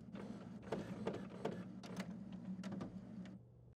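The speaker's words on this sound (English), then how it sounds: "press the Start Copy Color button to scan the alignment page." An HP DeskJet 2600 all-in-one printer scans an alignment page, a steady mechanical hum with a run of quick clicks and whirring pulses for several seconds before it stops abruptly.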